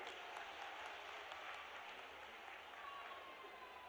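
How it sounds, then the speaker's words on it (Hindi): An audience at a Chief Minister's public event gives a steady, continuous round of applause, dense and even throughout, with no voices standing out. "एक बार जोरदार ताली बजाइए"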